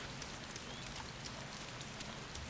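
Steady rain pours down in the survival game DayZ, a dense, even hiss of drops on surfaces with no voices over it.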